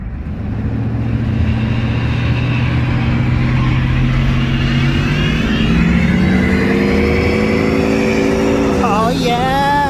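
A 7.3 IDI diesel truck built for racing is power braked, its engine droning steadily and loud, then rising in pitch as it revs hard near the end, with a faint voice partly under the roar.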